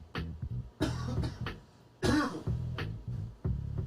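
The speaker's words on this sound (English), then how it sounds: "Let me get this cough out." Several close, harsh coughs in quick succession, with a throaty rasp between bursts and short pauses between them.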